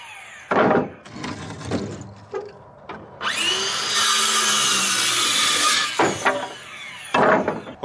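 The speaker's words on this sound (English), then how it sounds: "now I need to cut one of these 4x8 sheets of plywood in half" A power saw cuts a 4x8 sheet of plywood in half for an A-frame goat playhouse: a loud, sustained cutting whine runs for about three seconds mid-clip, framed by knocks and handling thumps of the sheet and tool before and after.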